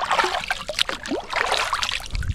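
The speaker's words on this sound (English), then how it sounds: "We wash it in the salt water." Fish washed in salt water by hand on the island of Palau, with irregular trickles, sloshes and small splashes close by, no talk.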